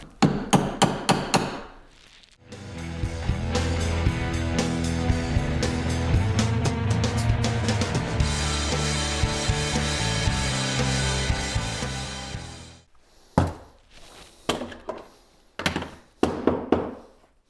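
Drill boring holes in a steel bracket for a Sportster headlight mount, a sustained loud motor drone for about ten seconds, bracketed by sharp metallic knocks and clunks of handling the workpiece, with no talk.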